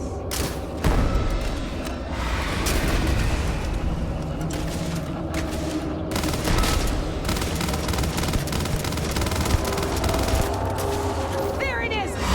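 Sustained gunfire from a firefight in the video game Starfield, dense bursts and booms running nearly nonstop, with shouting voices mixed in over the shooting.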